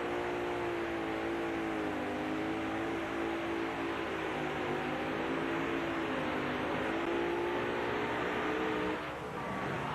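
A pulling tractor powered by four 500 cubic inch Dodge Hemi engines roars at a steady, loud, sustained pitch during a 1997 NTPA tractor pull in Tomah, Wisconsin, the engines droning continuously before easing off at the very end.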